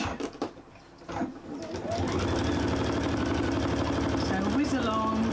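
A sewing machine stitches binding on a quilted packaway cushion at stitch length 3, starting with a few short bursts and then running in a steady, close, rhythmic whir; someone talks over it.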